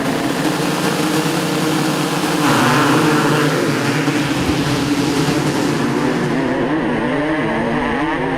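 Motocross bikes, among them a 1989 Honda CR500 two-stroke and a KTM, blast off the start gate at Fox Hills in the season's final race, a loud dense roar of many engines revving hard and rising in pitch, nearby and continuous.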